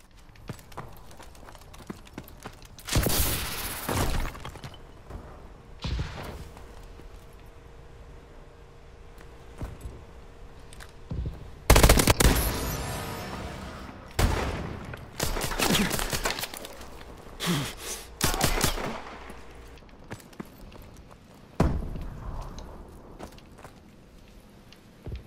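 Gunfire rings out in the futuristic shooter Call of Duty Advanced Warfare: sharp, loud bursts scattered across quiet stretches, some as single cracks and some as quick clusters of shots.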